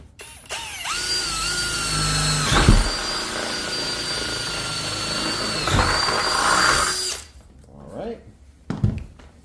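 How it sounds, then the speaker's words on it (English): A power drill with a 3/8 inch bit bores a hole straight through a paper template into a door during a smart lock installation, a loud steady whine running several seconds with a brief pause and restart before it stops. "we're going to go ahead and just drill it right there"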